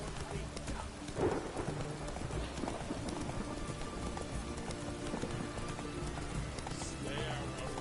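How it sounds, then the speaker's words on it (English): Steady rain falls throughout, a dense broadband hiss with scattered clattering and rumbling underneath, fairly quiet overall with faint voices mixed in. "It's raining, of course it's going to be done."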